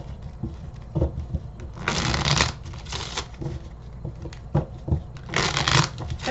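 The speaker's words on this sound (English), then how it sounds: "Let me just give these a shuffle." Tarot cards are shuffled close by in several bursts of riffling and flicking, rising and falling, with no voices.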